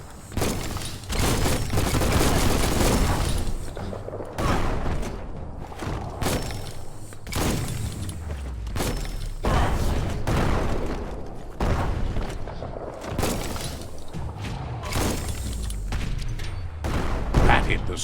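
A bomb lobber weapon fires in Biomutant, sending out repeated heavy booms and thuds that rumble through the scene, with a voice speaking over the continuous barrage.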